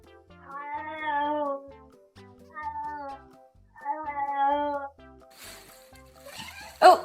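A cat gives three drawn-out, speech-like meows in sequence, fairly close, followed by a brief hiss of noise and a sharp sound at the end.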